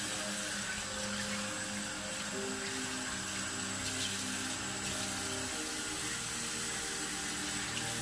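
Lukewarm tap water runs steadily from a faucet while someone rinses their face over a sink, a continuous close hiss and splash with slight variations in flow and no speech.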